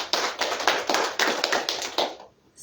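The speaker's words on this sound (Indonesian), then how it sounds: "Beri tepuk tangan buat Tuhan Yesus." Church congregation clapping for Jesus during a sermon, a dense, lively round of applause with rhythmic surges, filling the room before cutting off abruptly near the end.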